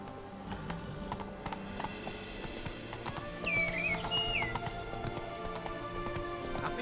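Horse hooves clip-clop in The Witcher 3, a steady rhythmic patter under a continuous ambient bed of rain and wind, with a brief whinny-like call rising midway.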